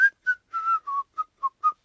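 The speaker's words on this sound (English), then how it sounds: "and whistling." A person whistles a short, bright tune of about eight clipped notes at a quick, uneven pace, close and clear with no other sound.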